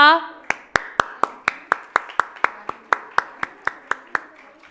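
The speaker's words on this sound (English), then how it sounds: "Give a big round of applause." At a school annual day celebration, a single person claps in a steady rhythm, about seventeen crisp, close claps evenly spaced after a brief voice at the start.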